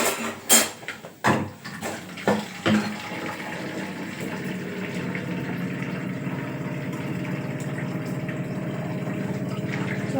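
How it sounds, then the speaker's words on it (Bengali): A few clinks of bottles and utensils open, then a steady stream of water runs continuously as water bottles are filled, with a low pump-like hum beneath. "জলের বোতলগুলো সব ভরে নিতে হবে।"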